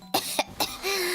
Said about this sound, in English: might be coughing every now and then.